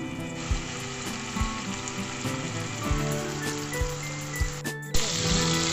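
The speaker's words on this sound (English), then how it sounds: "So in this we are going to shallow fry the chicken pieces." Hot oil sizzles and crackles steadily while chicken pieces shallow fry for butter chicken, with periodic soft knocks and a brief clatter near the end.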